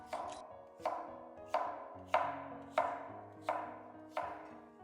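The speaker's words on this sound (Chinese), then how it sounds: "先給它1分為4，切成厚片，再橫着改刀切成小塊" A knife chops lotus root into small pieces on a cutting board, making seven crisp, evenly spaced thuds, each ringing briefly before the next.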